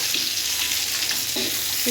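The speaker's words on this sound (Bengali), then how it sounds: "রসুন আর জিরা আদা বাটা ঝালের গুঁড়া ধনের গুঁড়া আর হলুদের গুঁড়া আর গরম মশলা এটা ভাজা হয়ে গেলে" Garlic, cumin, ginger paste and ground chili, coriander, turmeric and garam masala fry in oil, giving a dense, steady sizzle close by with a few stirring scrapes throughout.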